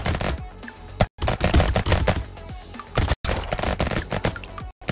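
Rapid SMG fire from the game Brotato runs as a near-continuous stream of loud, crackling shots. Three brief silences break it, and each time it resumes straight away at full intensity.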